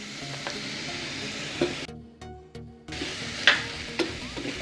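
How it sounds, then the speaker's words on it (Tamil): Grated coconut stir-frying in a pan for carrot sambal, a close, continuous sizzle broken by a brief quiet gap, with scraping stir strokes and small clinks of the spatula. "தேங்காய் பூ நல்லா போட்டு வறுத்துட்டு"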